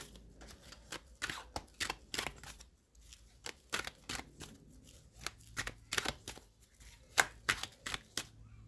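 Tarot cards are shuffled in quick, crisp riffling bursts, close and fairly quiet, with short pauses between rounds of rapid flicking.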